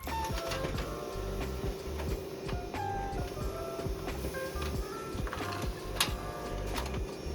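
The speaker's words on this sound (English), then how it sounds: "I'm at my church and I'm going to abuse their printer" A church office printer runs off resumes with a steady mechanical whir, rapid clicking and rhythmic ticks from the paper feed, and occasional sharper clacks, heard close and alone.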